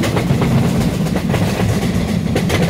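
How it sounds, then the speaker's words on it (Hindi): Jan Shatabdi passenger trains rumble along in an Indian train simulator game, a steady, loud low roar of rolling wagons with faint rhythmic clickety-clack of wheels over rail joints throughout. "ये देखिए जन शताब्दी वर्सेस जन शताब्दी, साथ है पहला रेस"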